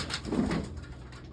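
A pigeon in a loft gives a short, low coo, close and clear over faint background noise.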